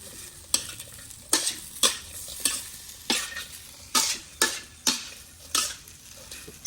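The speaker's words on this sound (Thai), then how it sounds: "คนไปเรื่อยๆ ให้น้ำมันจากมันหมูเนี่ยออกมา ใช้ไฟกลาง" Metal utensil scraping a dry pan in repeated strokes, roughly one per half second, stirring pork fat over medium heat, with a steady background sizzle of the fat rendering.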